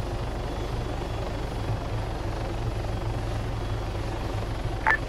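A Chinook helicopter in Arma 3 drones with a steady, loud rotor thrum and engine rumble that holds unbroken, with a brief chirp near the end.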